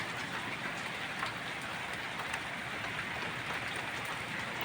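Large hailstones fall in a dense, steady patter, a continuous rattling hiss of ice striking surfaces, heard from some distance and fairly quiet, with no voices.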